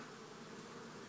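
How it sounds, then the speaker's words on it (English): A swarm of honey bees hanging outside a hive, a continuous close buzzing drone from many insects, steady and unbroken with no voices. "I'm not going to mess with these bees hanging down here."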